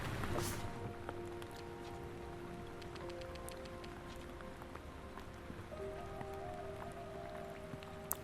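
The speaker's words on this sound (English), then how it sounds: "And it's raining." Soft, steady rain falls in the Lake Ridden video game, a faint continuous patter under quiet sustained musical tones.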